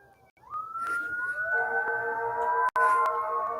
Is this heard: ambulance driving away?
yes